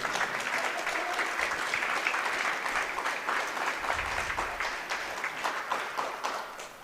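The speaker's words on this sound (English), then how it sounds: "let's have a round of applause for Logan Chassie, Alex Sikora, Cullen Dennett," A gym crowd at a high school wrestling meet applauds the visiting Portsmouth seniors, sustained and fairly loud clapping that continues evenly throughout.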